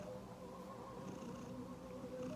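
A Siamese kitten purrs softly and continuously, a low gentle rumble heard close by in a quiet room.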